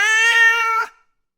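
A single loud, close cat meow with a bright harmonic tone, holding steady for under a second before cutting off into silence.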